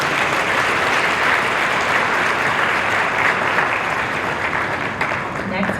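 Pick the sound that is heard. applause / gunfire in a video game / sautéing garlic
applause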